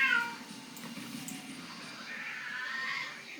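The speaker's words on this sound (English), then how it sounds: "The cat just started screaming." A house cat yowls and meows loudly indoors, a drawn-out strained cry at the start followed by another wavering meow, near and insistent with quiet room noise beneath.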